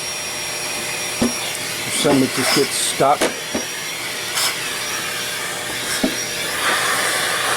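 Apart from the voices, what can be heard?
old Electrolux household vacuum with HEPA filter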